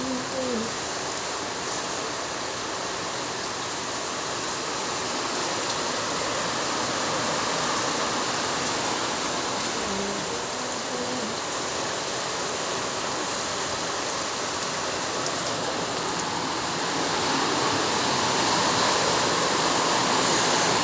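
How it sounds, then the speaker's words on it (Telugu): Heavy monsoon rain hammers metal roof sheets in Mahabubnagar, creating a dense, loud, unbroken drumming hiss that holds steady for about twenty seconds. "రేకుల పైన పడుతున్న వర్షం ఎంత సౌండ్ వస్తుంది"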